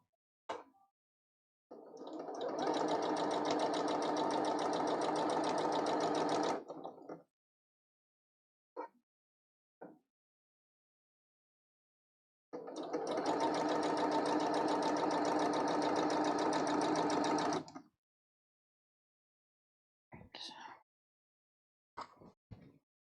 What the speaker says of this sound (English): we're just gonna sew the whole entire thing